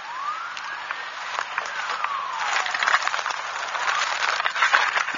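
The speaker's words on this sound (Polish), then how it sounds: "Ten drugi taki dźwięk w tle, taki bardziej wyjący, nie ryczący, to jest karetka pogotowia." An ambulance siren wails in the background with slow rising and falling sweeps, steady and moderately loud against outdoor noise near an aircraft crash site in Smolensk.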